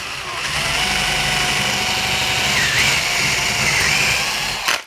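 A power drill bores a vertical dowel hole, its motor running in a steady, loud, unbroken whine for several seconds close up before cutting off at the end.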